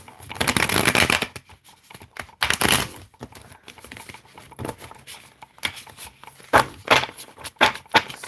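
Tarot cards are shuffled close up in rapid riffling bursts, a long flurry at first, then shorter irregular snaps and slides with pauses between.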